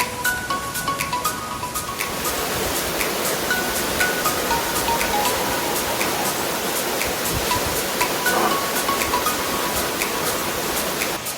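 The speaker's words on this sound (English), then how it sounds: "you can hear the stream just roaring in the background the whole hike" A stream roars steadily beside a waterfall hiking trail on Oahu, Hawaii, a constant broadband rush of water that holds an even level throughout with no voices.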